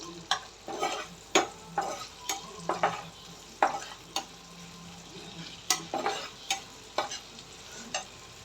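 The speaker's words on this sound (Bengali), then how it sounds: "আমি পেঁয়াজটা ভেজে নিচ্ছি" Onions frying in a pan, a low sizzle punctuated by regular sharp scrapes and taps of a spatula against the metal, close and moderately quiet.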